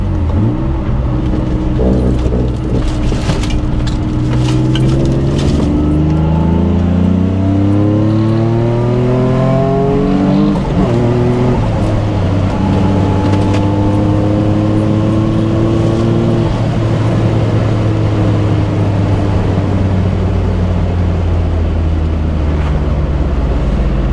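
A turbocharged Nissan 350Z driving past, its engine climbing through rising revs with gear shifts and a steady drone in between, loud and close throughout with no voices.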